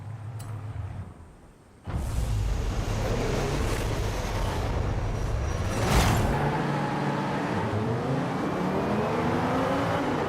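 A powerful 8.4-liter V10 car engine in the video game Forza Horizon 5 roars up after a brief lull, holding a loud, steady growl with rising revs and a surge midway.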